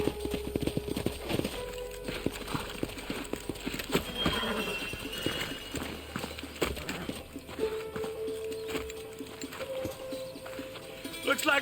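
Horse hooves clip-clop over the ground in the Red Dead Redemption video game, a loose irregular patter of several horses slowing to a halt, mixed with game sound effects and occasional voices.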